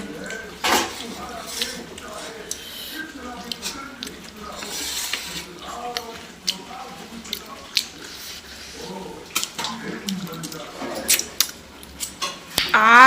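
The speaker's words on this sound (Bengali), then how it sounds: "দেখো ঠ্যাং কাটছি, ঠ্যাং।" Meat legs are cut in a home kitchen, with sharp scissor-like snips and clicks scattered among dish clatter and a brief drip, close by, with voices talking over much of it.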